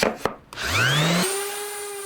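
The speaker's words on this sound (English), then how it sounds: "now I've got my random orbital with a 120 on it, so we'll put the finish sand on it now" A random orbital sander with 120-grit paper spins up with a rising whine and settles into a steady buzzing drone while finish-sanding a carved cherry wood sign, loud and close after a couple of brief knocks.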